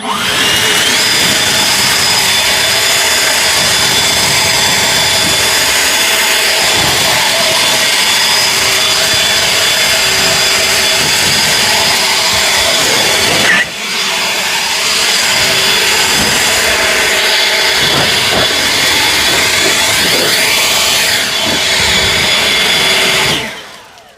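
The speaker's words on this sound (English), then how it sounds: "I've got the tapered nozzle on. I'm going to get a really concentrated stream." A close, loud, continuous rush of air comes from an EGO Power+ LB7650 cordless leaf blower with a tapered nozzle. A thin motor whine sits over the roar, and the pitch dips briefly midway before the blower runs on steadily and then cuts off.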